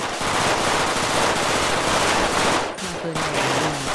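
Machine gun fire in a video game, a dense, loud continuous burst of rapid shots filling the sound, with a brief pause and a faint voice near the end.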